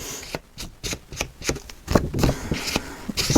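Patterned paper is dabbed and rubbed with an ink pad in quick, irregular soft taps and scuffs, close and fairly quiet, with no voices.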